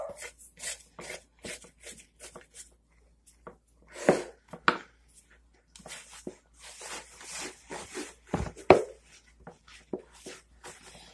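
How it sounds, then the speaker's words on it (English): No-knead bread dough is stirred in a bowl in a home kitchen, a series of soft, irregular scraping and slapping strokes, close and quiet with pauses between. "So she mixes the second bowl the same way as the cheesy garlic."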